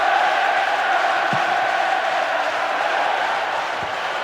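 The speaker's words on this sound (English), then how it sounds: "To say the crowd is adding to this as a spectacle. The noise they're making is terrific." Stadium crowd noise in the PES 2009 football video game: a dense, continuous roar of fans with chanting tones, loud and steady throughout, no commentary over it.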